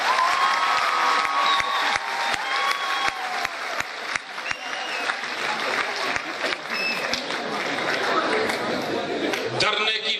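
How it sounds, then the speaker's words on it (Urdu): An audience at a college poetry mushaira in Sargodha claps steadily, a dense patter of applause with a few sharp individual claps standing out, fading slightly toward the end. "ان کے لیے بھرپور تالیاں ہیں۔"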